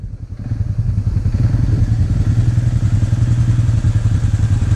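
A four-wheel-drive ride-on vehicle at a park strains over an obstacle, its motor giving a steady, loud low drone with clattering thumps throughout, close by and with no talk.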